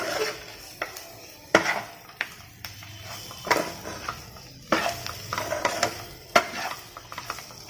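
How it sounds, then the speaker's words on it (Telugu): Potato and cauliflower pieces frying in a pan with chilli powder and cumin powder, stirred with a utensil: repeated scraping and clinking strokes over a soft sizzle, close and fairly quiet, with no talk. "మొత్తం కారము జీలకర్ర పొడి అన్నీ ముక్కలకి బాగా పట్టేదాకా ఫ్రై చేసుకోవాలి."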